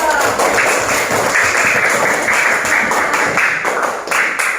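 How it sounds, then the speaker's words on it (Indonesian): Classmates in a school classroom clap for a fellow student, a steady, dense burst of applause lasting several seconds, close and fairly loud with some tapping mixed in. "Terima kasih, tepuk tangannya buat teman kita"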